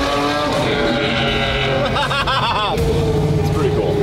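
A Mercedes car engine in a racing video game drones steadily with layered tonal whine, sweeping pitch shifts and a brief tire squeal midway, continuous and fairly loud.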